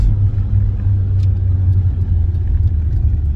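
A Peugeot 405 T16 rally-bred car with four-wheel drive, driven on snow, gives a loud, close, continuous low engine rumble that stays heavy and steady as it pulls hard.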